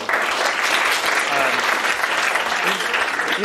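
Steady, dense audience applause for a guest lecturer at a computer science talk, filling the whole moment at an even, loud level with no pauses or voices standing out.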